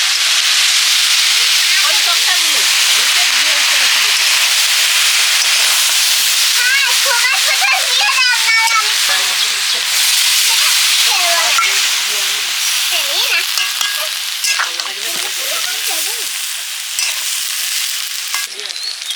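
Mustard, cumin and dried chilli paste goes into gourd greens frying in a pan, giving a steady loud sizzle with hissing steam and scraping stirs throughout, and faint voices beneath.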